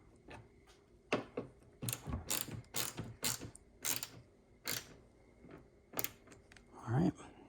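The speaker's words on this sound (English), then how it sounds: "finish up with your 10mm ratchet" A 10mm ratchet tightening the nuts on a 200 series Land Cruiser's LED reverse light, a run of sharp close clicks in quick irregular bursts with short pauses and a brief rustle at the end.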